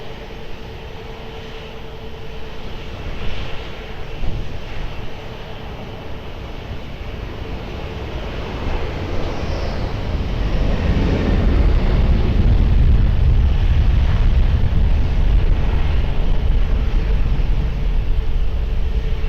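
An Airbus A330 takes off from runway 20 at Lisbon Airport, its broad engine roar swelling from a moderate rumble into a loud, sustained low thunder with no voices over it.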